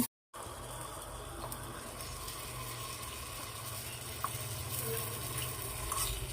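Vegetables for a dish with pointed gourd and sweet pumpkin fry in a pan on a newly built stove, giving a steady, close sizzle with a soft low rumble throughout and a few faint clinks, with no talking.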